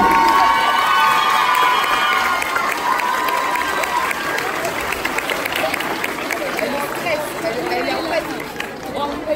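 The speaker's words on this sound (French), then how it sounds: "Je pense qu'on peut les applaudir bien fort encore une fois" An audience at a dance competition in St Saulve cheers and applauds after a dance group's performance; a dense, loud wash of clapping, shouts and excited children's voices fills the hall continuously before easing slightly toward the end.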